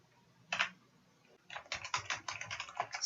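Code being typed on a computer keyboard, a short burst of key clicks followed by a pause, then a longer run of rapid close keystrokes, quiet and alone.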